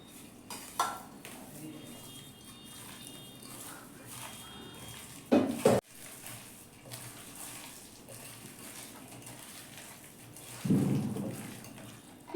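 Chicken biryani ingredients, rice with salt and fried onions, are stirred in a metal pot, with soft scraping and a couple of louder clanks of the spoon against the pot between quieter stretches.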